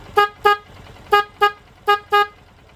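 A car's dual horn with only one horn working toots six times in short pairs, each honk a single flat reedy tone, loud and close.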